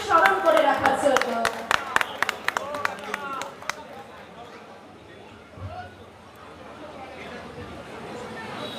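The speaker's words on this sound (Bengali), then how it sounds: "আমি দর্শকদেরকে অনুরোধ জানাবো একটা জোরে করতালি দিয়ে এই মুহূর্তকে স্মরণ করে রাখার জন্য।" An audience claps for several seconds in honour of a minister at a ceremony, with sharp, scattered handclaps close by, before the applause dies away into a low murmur of voices.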